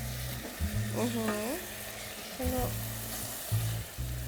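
Tomato paste sizzles in a pan while being stirred, a steady soft frying hiss broken by short scraping strokes, with someone talking briefly over it.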